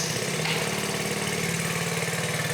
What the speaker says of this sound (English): This is an off-the-shelf 4-cycle Ryobi leaf blower, and it was converted to run on hydrogen.